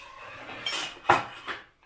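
Sauces and spices, including optional chili flakes, being stirred together in a dish for oven-baked sausage and sucuk: a few soft clinks and scrapes of a utensil against the bowl, quiet and close.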